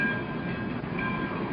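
A cartoon-style steam train engine rumbles steadily, a dense, even roar of rolling machinery with faint whistle-like tones riding on top and no voices.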